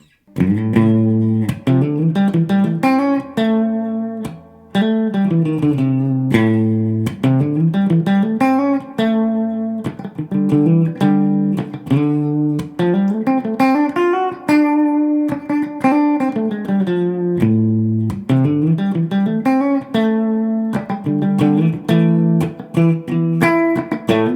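A distorted electric guitar plays a bluesy riff with bent notes and chords, loud and steady, no voices.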